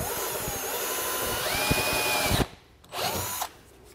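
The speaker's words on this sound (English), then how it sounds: "Where we marked, we're going to drill a pilot hole." A power drill bores a pilot hole with a 1/8-inch bit while installing side steps on a 2019 Chevrolet Colorado, a steady close whine that stops, then a second short burst and stop.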